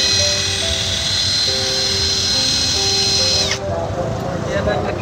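A cheap power tool impact driver whines loudly and steadily while driving roofing screws, then cuts off abruptly near the end, leaving quieter background noise.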